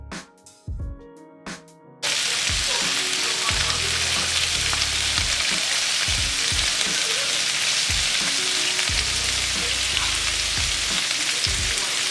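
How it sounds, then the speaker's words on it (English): French fries and fajita meat frying together in hot oil, a dense loud sizzle that bursts in after a couple of seconds of light clinks and holds steady, with low thumps and stirring knocks throughout. "while the fries cook and the meat gets all ready to go"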